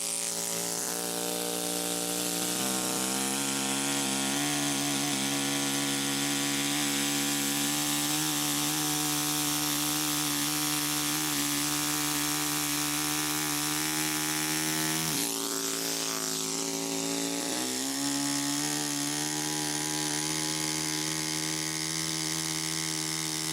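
A V carving tool cutting into marble, a heat- and pressure-formed stone, gives a steady, close grinding whine with a strong humming tone that wavers and dips briefly midway before resuming; no one speaks.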